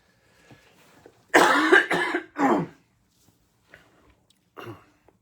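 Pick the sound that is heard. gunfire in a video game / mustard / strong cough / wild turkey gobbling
strong cough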